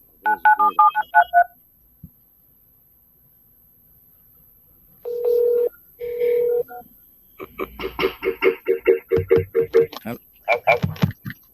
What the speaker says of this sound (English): call my phone, Paul.